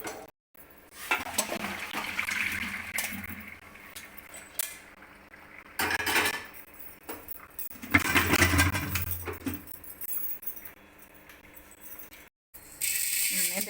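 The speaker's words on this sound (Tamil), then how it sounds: "தண்ணியை வடித்து எடுத்துக்கலாம்." Boiled water poured off through a strainer in a kitchen while making cauliflower pickle: uneven bursts of splashing and trickling with metallic clinks, fairly quiet, with short silent gaps between pours.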